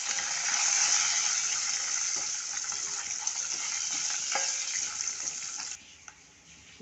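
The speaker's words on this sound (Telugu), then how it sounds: "వేడి నెయ్యిలో జీడిపప్పు, బాదం, యాలకులు పొడి వేసి కొద్దిగా వేయించాలి." Cashews, almonds and cardamom powder sizzle in hot ghee in a pan while making lauki halwa, a steady, close crackling fry with occasional stirring clicks that drops abruptly to a quieter hiss near the end.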